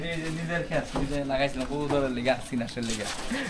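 Farm-kept pigeons coo in soft, rolling bursts close by, mixed in with someone talking over them.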